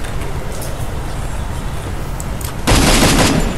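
Gunfire in a Free Fire match: a steady, noisy stretch of shots and battle ambience, ending in a louder, close burst near the end.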